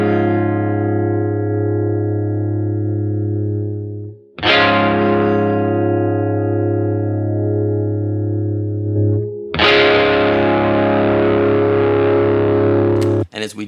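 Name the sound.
re-amped electric guitar note dynamics edited in Melodyne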